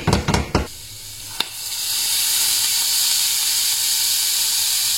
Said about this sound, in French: je vais mettre les oignons dans la poêle